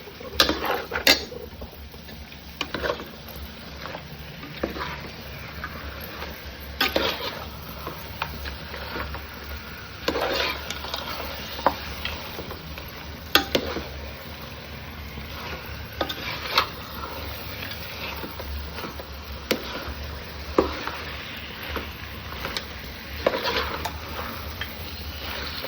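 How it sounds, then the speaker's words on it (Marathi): Mutton being stirred into a spice masala in a pan, with repeated scraping and clinking strokes of a spoon against the metal at a steady pace, close and moderately loud. "मसाल्यामध्ये मटणाला मिक्स करून घ्यायचं आहे आधी."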